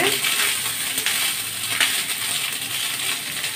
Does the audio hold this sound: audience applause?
no